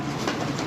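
A pigeon coos once, a soft, low murmuring call lasting under a second against a steady background hiss.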